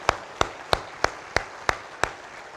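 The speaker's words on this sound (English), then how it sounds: "we'll give you a round of applause" A single pair of hands claps slowly and evenly, about seven sharp claps spaced roughly a third of a second apart, at a hall of fame induction ceremony for current student athletes. The claps are close and distinct against a quiet room.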